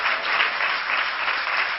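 A church congregation claps together during a service, producing dense, steady applause that stays even throughout without voices.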